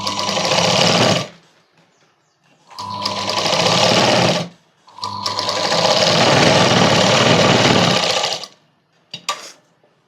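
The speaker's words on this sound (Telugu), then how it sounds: "ఇలా స్టిచ్ చేసుకోవాలని, లైనింగ్ పెట్టి మొత్తం స్టిచ్ చేసుకోవాలి." An electric sewing machine stitches a child's night dress with lining, running in three loud, fast whirring bursts separated by short quiet pauses, followed by a brief final stutter near the end.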